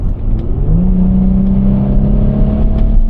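A 2025 Infiniti QX80 SUV with a 450-horsepower engine climbs a hill in sport mode, its engine note rising in pitch and then holding a loud, steady drone heard from inside the cabin.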